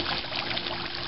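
Water splashing and trickling in a child's backyard pool, a steady close wash of liquid for about a second with no voices.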